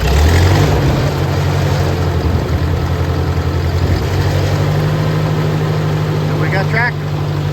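A tractor engine runs with a steady, loud low rumble and a throbbing idle that holds throughout, with a faint brief tone near the end.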